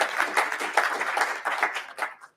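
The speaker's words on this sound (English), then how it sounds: "give them a round of applause" Audience applause at a Black History Month event celebrating LGBT and Black communities, a dense burst of many hands clapping that swells in waves and then tapers off to silence at the end.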